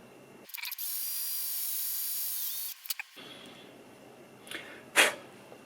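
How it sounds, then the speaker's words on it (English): Small power drill boring out the mounting posts of a diecast car, a steady high whine running about two seconds, then brief bursts and a short loud spurt near the end, close and alone. "I got both posts drilled out."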